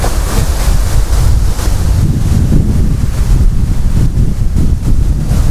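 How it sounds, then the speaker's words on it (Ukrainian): Strong wind blasting straight into the microphone, a loud, constant low roar with buffeting gusts and no voices. "Такий вітер роздулявся"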